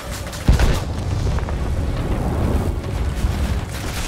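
Bomb explosion in World of Warplanes 2.0 during an I-207/4 duel: a sudden deep boom followed by a rumbling roar of engine and battle noise that continues steadily, with no voices.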